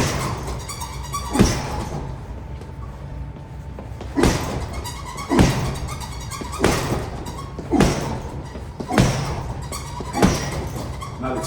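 Punches land on a heavy bag during a boxing workout focused on stepping into right-hand power shots: six solid, loud thuds spaced a second or two apart, with no talking.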